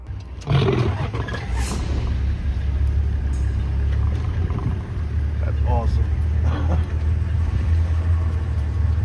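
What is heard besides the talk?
safari car reversing away from a charging lion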